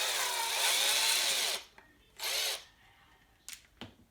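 A power drill or driver whirs loudly for about a second and a half while removing the front bumper of an ECX 2WD 1/10 RC truck, followed by a second shorter burst and a couple of brief clicks.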